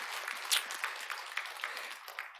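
A church congregation at a Sunday service at Gwangju Onnuri Church gives a short round of faint, scattered hand claps. The individual claps are sparse and sit in a quiet room.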